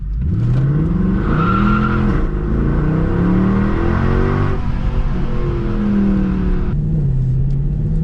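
A 500hp sports car accelerates hard on a road, the engine note climbing through repeated loud revving sweeps with gear changes, close and continuous throughout.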